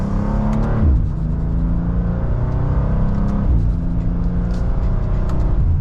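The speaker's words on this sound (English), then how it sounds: "And just a mild acceleration." A 2025 BMW M2 in sport mode and second gear pulls through a mild acceleration, its engine note rising in a steady, loud, close rumble from start to finish, with no talk.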